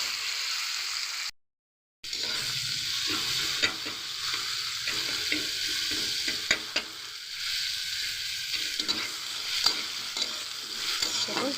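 Tomatoes frying in a pan for a bottle gourd leaf dish, with a continuous sizzle and repeated scraping of a spoon while stirring, after one brief drop to silence near the start.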